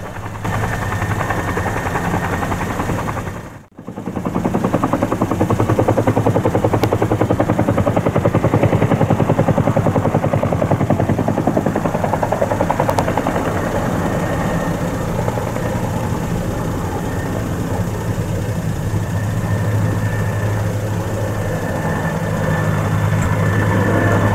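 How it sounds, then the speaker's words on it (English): Helicopter lifting bags of peat and stone in the Yorkshire Dales, a loud steady rotor drone and engine rumble that continues almost unbroken, with one brief dip early on. "the helicopters lifting bags of peat and stone right up onto the horizon to rebuild an ecosystem which had been destroyed"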